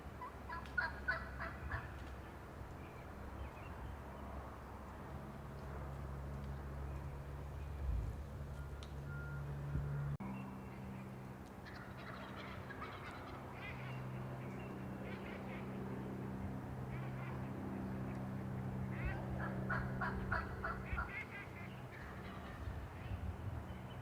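Wild turkeys gobble and ducks call in a field, faint and at a distance, over steady low background rumble, with a few beeps partway through.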